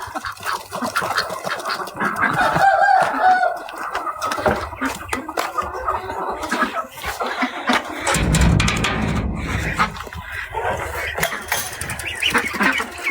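Chickens clucking in a yard, mixed with other farm fowl like ducks, irregular bursts of calls and rustling, fairly close and busy, with a few engine-like rumbles underneath.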